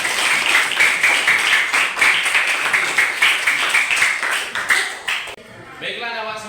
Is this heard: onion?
no